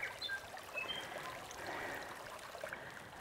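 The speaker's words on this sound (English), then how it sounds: "There's a little creek here." A small creek trickles and flows quietly in a rainy wooded campsite, a faint, continuous babble of water with a few thin high chirps above it.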